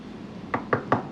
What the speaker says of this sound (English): I'm gonna go ahead and knock on wood right now